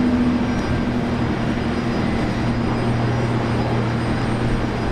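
Airliner climbing out after departure from Brisbane Airport, a steady broad engine roar with a low droning tone, continuous and fairly loud, with no voices.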